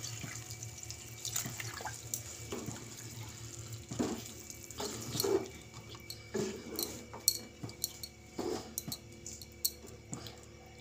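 Water poured into a pan of chicken curry in a home kitchen: faint, intermittent splashing and trickling in short bursts, quiet and close, with no talk.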